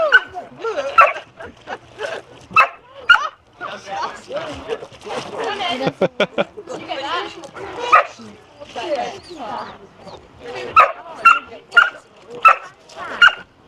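A dog barks in sharp, repeated bursts mixed with high whimpers and yips at the Kent County Show, close and loud, with a brief rapid series in the middle.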